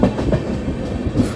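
An express train on the Danapur–Pune run pulling out of Maihar station, its wheels beating a steady, close clickety-clack over the rails with a continuous rumble and no talk.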